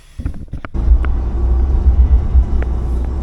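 A lifted Nissan Pathfinder towing a light trailer rumbles along the road with a loud, steady low engine and road drone after a few brief knocks at the start.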